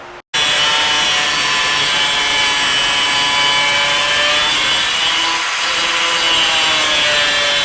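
A metal plate is sawn in half with a harsh, continuous, loud grinding whine that runs steadily after a brief start and carries bright, ringing overtones.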